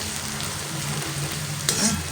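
Steady, close sizzling of food frying in a pan, a continuous hiss with a faint low hum beneath it and a brief stir near the end.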